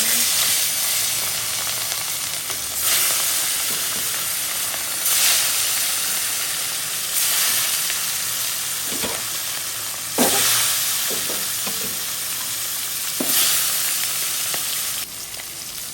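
Loud, close sizzling of fish frying in hot oil, with surges of crackling and hissing every couple of seconds and a few clinks of a utensil.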